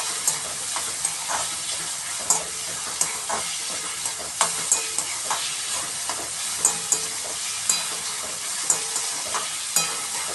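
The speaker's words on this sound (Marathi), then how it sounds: "कांदा छान परतून घेऊया. कढीपत्त्याची पानं टाकूया." Chopped onion and curry leaves fry in a pan, a dense, loud sizzle with regular scraping clicks from a spoon stirring them roughly every half second to a second.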